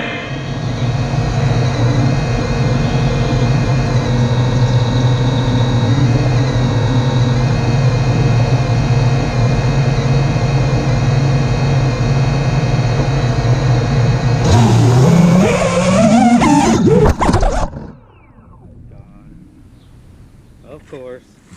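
Homemade FPV drone carrying a GoPro makes a loud, steady motor whine that holds for several seconds, surges sharply, then cuts off abruptly into near quiet.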